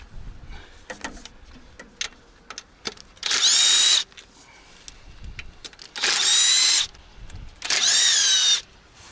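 Power tool unscrewing bolts from the intake manifold of a HANOMAG 44D engine, with three loud, sustained whirring bursts separated by clanks and handling noises.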